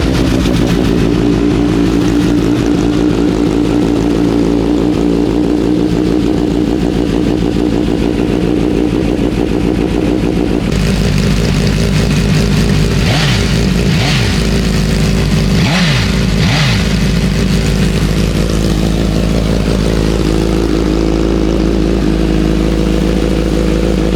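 A Suzuki Katana motorcycle fitted with a Brox exhaust idles loud and close with a rough, steady rumble, then gets several quick throttle blips that rise and fall over the idle.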